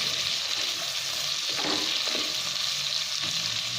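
Meat fries in olive oil in a pan, giving a steady, loud sizzle with faint stirring scrapes partway through, and no voices over it.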